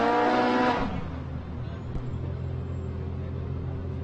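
A Can-Am off-road race vehicle at the Baja 400 starting line, its engine loud and revving briefly, then dropping to a steadier idle-like drone with an announcer talking over it.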